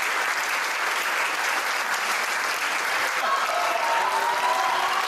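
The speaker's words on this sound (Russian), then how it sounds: "аншлагом и овациями." A sold-out theatre audience in Turkey gives a sustained ovation after a performance by an international troupe and Central Asian soloists, a thick, even roar of clapping throughout.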